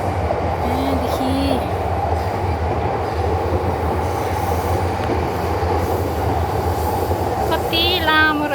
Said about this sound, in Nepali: कति लामो रहेछ हौ ट्रेन।